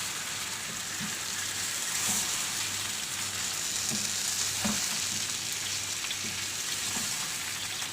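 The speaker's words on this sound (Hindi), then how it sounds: "सारा चिकन इसके अंदर शामिल कर देंगे हम। और इसकी अच्छी तरह से भुनाई करेंगे हम।" Chicken for biryani fries in a pot with a steady, dense sizzle and occasional louder pops and stirring scrapes, continuous and close throughout.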